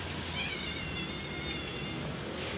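A cat meows faintly and briefly over a constant broadband hiss of outdoor background noise.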